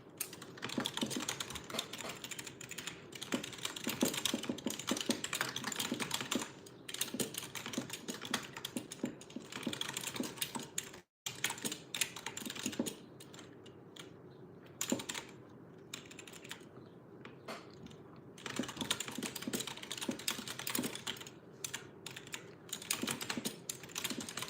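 Someone types steadily on a computer keyboard, with rapid close-up key clicks in bursts, one short pause near the middle and quieter stretches, and no voices.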